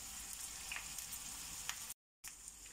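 Onion fries in a pan with a steady, moderate sizzle and crackle and a few brighter pops, cut by a brief gap of silence before the sizzle resumes.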